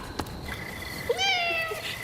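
A cat meows once, a clear rising-then-falling cry at close range, preceded by faint clicks and quiet room background.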